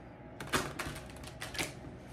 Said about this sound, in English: Let's just do a couple more shuffles,